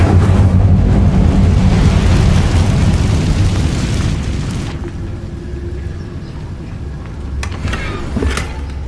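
A fire spell being cast in the video game Hogwarts Legacy, giving a loud roaring, rumbling burst that fills the first few seconds and then tails off into a quieter rushing bed with a couple of sharp crackles near the end.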